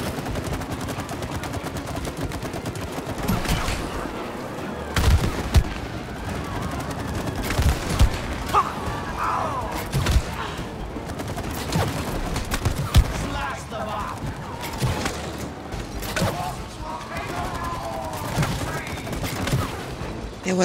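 Rapid bursts of gunfire from the video game It Takes Two, clustered volleys and single shots repeating throughout amid game effects, with players talking over the shooting.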